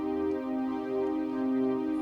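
A lo-fi synth pad played dry in Reason with its effects bypassed holds a steady, sustained chord, smooth and even with a slight pulsing swell, heard alone without any voice.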